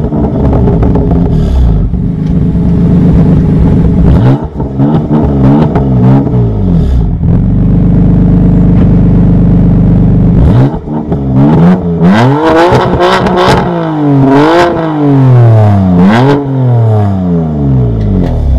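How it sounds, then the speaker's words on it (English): A car with the sport exhaust from the competition pack is revved repeatedly, loud close engine roars rising and falling in several bursts with a sustained idle-like drone between them, no talk. "I'm gonna rev the car and give you a little tease of what this car has to offer."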